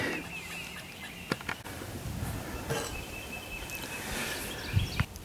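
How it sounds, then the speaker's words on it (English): Birds call near a lake during a sand bass fishing outing, with scattered chirps and clucking notes at a moderate distance over a soft outdoor background hiss and a few faint knocks. "So nice out here, listening to the birds, sitting out in the sun."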